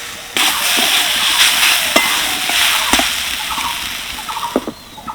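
Carrots and beetroot cooking in a covered pan hiss and sizzle while a utensil stirs them, with a few sharp scraping clicks and a bump as the lid is handled, close and steady.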